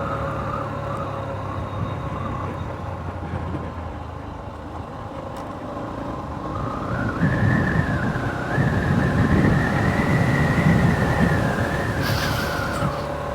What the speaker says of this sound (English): most of what you're hearing is literally the wind that's blowing.